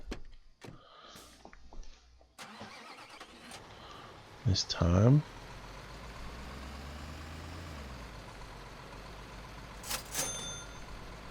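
A heavy truck engine idles in Construction Simulator 2015, a steady low rumble under a man's speech. A loud mechanical clunk or start comes partway through, followed by a brief hiss.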